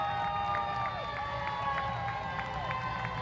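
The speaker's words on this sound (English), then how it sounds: "Now listen to all the applause." A parade crowd at the Findlay Market Opening Day Parade applauds and cheers in a steady wash of clapping and distant shouts, with a few whistles and voices rising through the noise.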